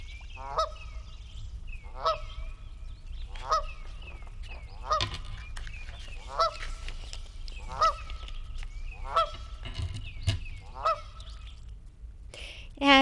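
Geese honk at a lake at early morning, about nine loud, regular calls a second or so apart, close by with a low rumble of background noise throughout.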